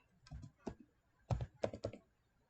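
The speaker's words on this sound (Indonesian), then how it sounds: "Setelah itu kita ketik cd c exam" A command is typed on a computer keyboard in a command prompt, heard as a short run of close, soft key taps in small uneven clusters, quiet and with no one talking.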